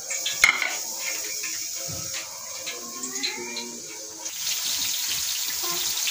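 Raw onion drops into about three pav of hot ghee in a pot, where a quiet, rattly background gives way to a louder, steady frying hiss that carries on to the end.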